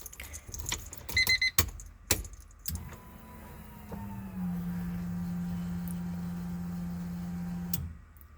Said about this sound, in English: fuel pump is priming.